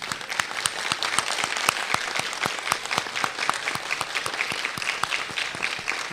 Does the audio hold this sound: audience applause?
yes